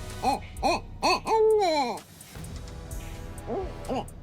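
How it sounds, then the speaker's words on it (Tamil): A barking owl calls in daytime with several short, dog-like barking hoots, then a longer rising and falling wail, and a few more barks after a pause. A voice speaks faintly underneath. "ஆம் இதுதான் குறைக்கும் ஆந்தை நாய் குறைப்பது போலவும் மனிதர்கள் அழுவது போலவும் இந்த ஆந்தை மிமிக்ரி செய்வதில் வல்லமை பெற்றதாம்"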